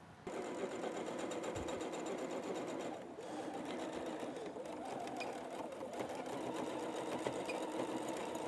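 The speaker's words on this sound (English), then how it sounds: "And we're going to sew the entire thing." A sewing machine stitching a quilted trucker hat at a quarter-inch seam, running in a steady, continuous whir with rapid needle ticking throughout, close and fairly quiet, briefly easing around the three-second mark.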